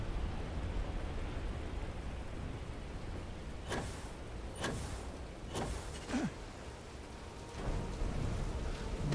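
A thunderstorm in the video game Starfield brings a faint, steady hiss of rain, cut by several sharp crackling lightning strikes and low rumbles spaced a second or so apart.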